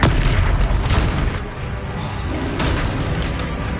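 A Confringo fire spell detonates in the Hogwarts Legacy game, a loud, sustained booming blast with rumbling roar that dips briefly and swells again, filling the whole stretch with dense, close explosive noise.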